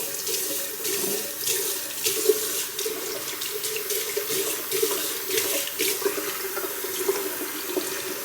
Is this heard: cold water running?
yes